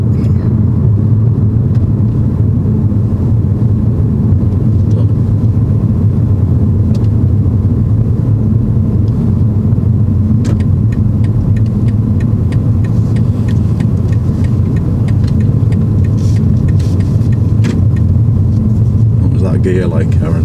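A car engine labours during a driving lesson, a loud, constant low rumble from inside the cabin that runs the whole time, with people talking over it.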